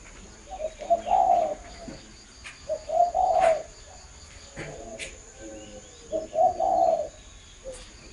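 A spotted dove perched on a hand gives three close, clear cooing phrases at regular intervals, with a faint steady insect trill in the background.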